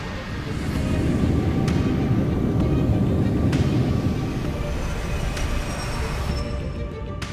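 Business jet taking off, heard as a steady, broad engine roar with a low rumble, sustained and even throughout at moderate distance, with faint clicks over it.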